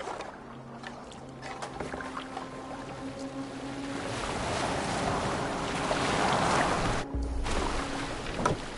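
A boat moves across water in Assassin's Creed Valhalla, with steady wash and splashing waves under wind that swells louder midway, along with a low continuous hum.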